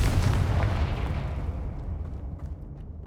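A Confringo fire spell from Hogwarts Legacy on PS5 explodes in a loud, rumbling blast that decays into a long low roar, with a faint sharp crack near the end.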